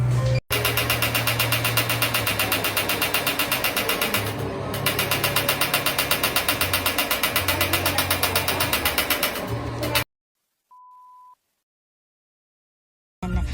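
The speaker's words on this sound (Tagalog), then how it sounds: "Ito yung machine kung saan para ka nag-sit up ng libo-libong beses." A sit-up exercise machine runs with a steady, rapid mechanical ratcheting whir for about ten seconds, dipping briefly once. It then stops abruptly, leaving silence broken by a short tone.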